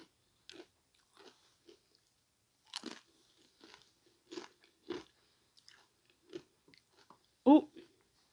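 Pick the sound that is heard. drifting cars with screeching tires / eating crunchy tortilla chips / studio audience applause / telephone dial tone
eating crunchy tortilla chips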